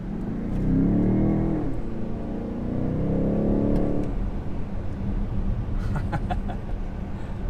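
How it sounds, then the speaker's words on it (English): A 2020 BMW M50i SUV accelerating hard from a standstill, its engine roaring loudly and climbing in pitch for about four seconds before easing into a steadier hum with some faint background chirps. "Now, this goes from 0 to 60 in under 4 seconds."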